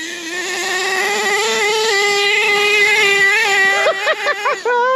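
An HPI Savage nitro RC monster truck engine screams at a high, steady pitch that climbs gradually, then breaks into rapid revving blips and chops near the end, loud and close with no talk.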